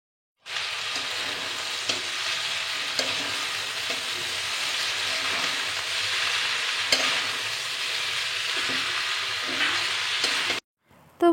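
Boiled chow mein noodles stir-fried in a hot pan with fried vegetables, a steady loud sizzle with occasional scraping stirs, continuous for about ten seconds before cutting off.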